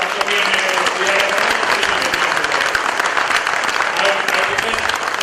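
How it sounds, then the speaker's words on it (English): A steady, loud wash of audience applause at a session's close honoring a speaker, continuous and dense throughout without a break. "can we give a big round of applause to Dr. B.M. Hegde?"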